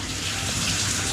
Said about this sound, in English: that, my friends, is the sound of a sweet, sweet shower